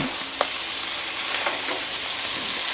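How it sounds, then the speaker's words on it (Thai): Rice vermicelli noodles stir-fried over high heat in a pan, a steady close sizzle and crackle with a few sharp scrapes of the spatula, no voices. "ใส่เส้นหมี่ลงไปผัด"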